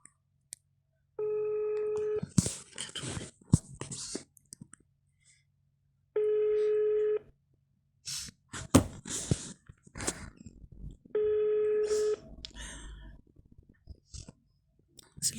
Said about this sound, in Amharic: ስልክ እያነሳ አይደለም።